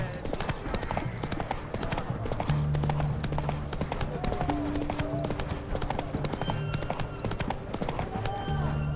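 A horse's hooves clip-clop steadily at a walk through the Vizima trade quarter in The Witcher 3, under a busy wash of game ambience, music and faint distant voices.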